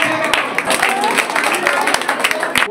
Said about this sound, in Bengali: পিএস গায়েনের জন্য আরেকবার জোরে হাততালি।